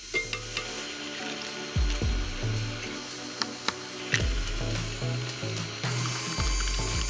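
Electric hand mixer creaming softened butter, sugar and eggs for a tres leches cake, a steady whirring hum with repeated thuds and knocks as the beaters hit the bowl, close and alone.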